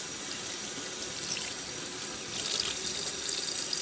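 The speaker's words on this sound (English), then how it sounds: "I'm gonna rinse it under cold water because they're hot." Cold tap water runs steadily into a sink to rinse a hot beauty blender sponge after microwaving, a constant close splashing hiss with no voices.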